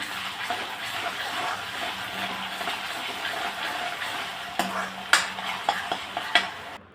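Chopped tomato sautés with golden onion, ginger-garlic paste and curry leaves in a pan. A soft, steady frying hiss is heard with light stirring scrapes and a few sharper clinks near the end, fairly quiet and without speech.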